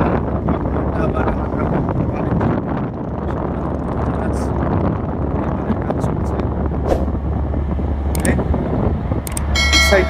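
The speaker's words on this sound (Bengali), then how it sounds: "শোনা যাচ্ছে ইঞ্জিনের প্রচন্ড আওয়াজ।" Two engines running loudly aboard a river launch, a constant low heavy drone mixed with wind rush over the deck, with faint talk in the background.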